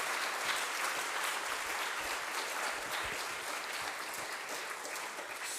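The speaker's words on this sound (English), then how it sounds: "So let's applaud and congratulate." Steady audience applause at the ERSA 2022 closing ceremony, a full, even roar of many people clapping that holds for several seconds without anyone speaking over it.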